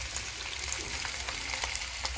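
Tripe (matumbo) frying in a pan, a steady, close, continuous sizzle with no pauses and no voices over it.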